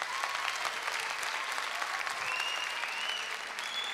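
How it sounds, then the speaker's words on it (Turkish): A television talent-show audience claps in steady, dense applause that fills the whole stretch, loud and sustained with no break, a wash of many hands at a Bülent Ersoy tribute night. "Bir büyük alkış daha gönderelim mi onlara?"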